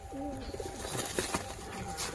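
A female Madrasi pigeon coos in a low, rolling run of calls with a brief wing flutter, fairly close and steady, with no talk over it.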